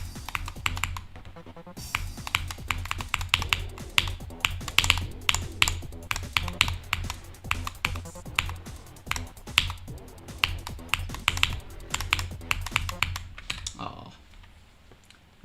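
Fast, continuous typing on a Wooting 80HE keyboard, dense clacky keystrokes in quick bursts close to the mic, fairly quiet, with a low hum underneath and a short pause near the end.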